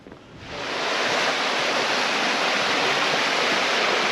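Wilson Creek rushing steadily in a foggy highland setting, a loud, continuous broadband wash of flowing water that swells in over the first half second and then holds constant, with no voices.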